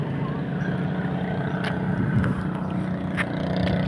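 A boat motors along a river at Masantol, Pampanga, its engine a steady, moderately distant drone under light wind noise, with a few faint clicks on top.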